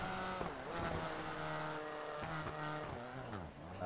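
Simulated race car from iRacing at a Super RallyCross round on Daytona, engine note climbing and dropping through gear shifts and braking over a lap, steady and close from onboard.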